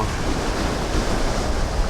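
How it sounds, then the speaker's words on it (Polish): Large ocean surf rolls in as a steady, loud wash of breaking waves on an island shore, with wind buffeting the microphone and no speech. "fale dosyć spore"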